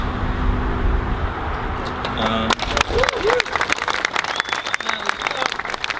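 Wedding guests clapping at a reception, a dense patter of hands swelling over a noisy room while people talk nearby.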